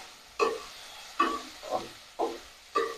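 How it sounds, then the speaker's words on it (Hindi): Tomato and onion frying together in a pan while being stirred, five soft scraping, sizzling strokes at a slow, uneven pace, close and fairly quiet, with no talking. "टमाटर को भी प्याज के साथ मिक्स करके अच्छे से भूनेंगे"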